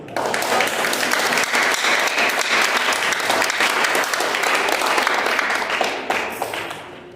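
An audience bursts into sustained, dense applause that holds loud for several seconds before tapering off slightly at the end.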